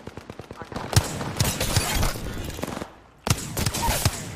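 Wingman pistol shots in the Apex Legends video game ring out in rapid bursts of sharp, loud cracks, a brief pause, then another flurry of firing amid battle noise.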